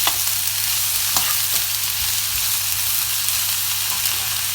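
Onions frying in a pan, with a continuous close hiss and light crackle and a few soft pops over a low hum, no talking.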